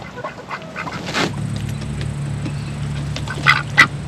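Ducks quack at a backyard flock where ducks and chickens are raised, with a couple of sharp, close calls near the end standing out over a steady low hum and scattered fainter bird sounds.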